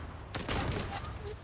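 Burst of gunfire in the Zula online shooter game, a short rapid volley of loud cracks lasting about half a second, followed by quieter background game sound.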